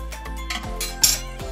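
Cutlery and dishes clink several times at close range while small pieces of chicken are moved into a small bowl in a home kitchen, with no voice.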